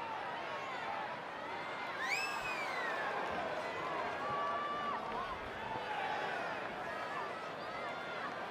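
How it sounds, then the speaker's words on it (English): Crowd at a Newcastle Pro wrestling arena cheering and calling out steadily, with whistle-like shouts rising through the noise. "it sounds to me like the crowd is more than ready for this one"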